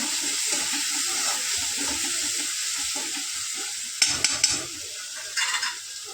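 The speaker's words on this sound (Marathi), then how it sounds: "टोमॅटो चांगलं परतून घेऊ." Tomatoes sauté in a pan with a steady, bright hissing sizzle, joined near the end by a few quick, sharp stirring scrapes.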